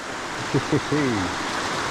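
Rain-swollen water rushes under a road bridge in the rainy season, a loud, steady roar, with a short stretch of a voice over it.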